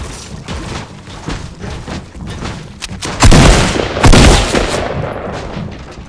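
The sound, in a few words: gunfire in the video game Fortnite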